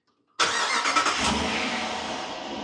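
After a moment of silence, a 2024 Dodge Durango engine cranks and catches, then settles into a steady, close running rumble.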